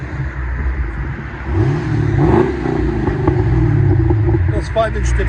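A Chevy Camaro SS with a 6.2L V8 and aftermarket exhaust with 5-inch tips revs outdoors, a deep loud rumble rising and falling in pitch, with people talking over it.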